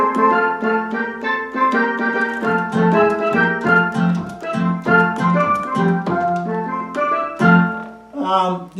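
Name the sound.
Roland accordion steel drum voice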